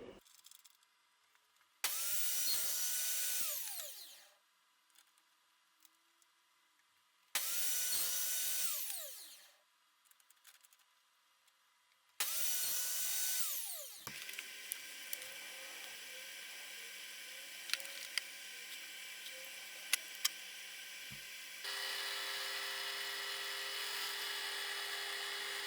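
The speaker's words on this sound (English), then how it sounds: "I'm just going to cut a groove for the plastic in this piece of plywood." A power tool cuts a groove in plywood for a cross-cut sled stop block, with three loud whirring passes that spin down between them, then a steadier, quieter running hum.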